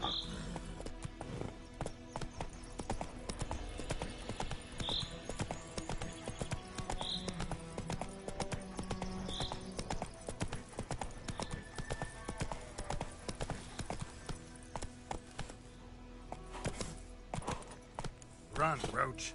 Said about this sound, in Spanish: El caballito como salta